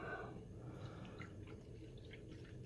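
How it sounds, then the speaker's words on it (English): Liquid poured into a cup in a kitchen while cooking cabbage, bacon and kielbasa in an Instant Pot, a soft steady trickle with faint drips, close by and alone over low background hum. "so I'm going to pour."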